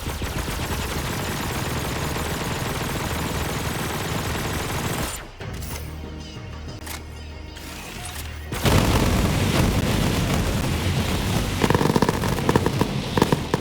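Gunfire at the weapons shed lock in Borderlands 3, a dense loud burst of rapid shots and booms over steady game noise, briefly dropping before a heavier stretch of firing.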